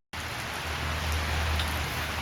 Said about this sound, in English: First rain in the greenhouse, on the greenhouse rather, not in.